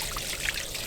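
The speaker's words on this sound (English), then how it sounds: "there goes all that hard collected water." Collected water draining out, a brief soft trickle and dribble of liquid running away, moderately close and heard alone.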